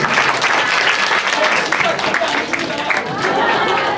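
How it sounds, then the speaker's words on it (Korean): Students at a Thursday high school chapel service in Seoul break into brief, dense applause for a visiting pastor, a close crackle of many hands with voices mixed in. "큰 박수"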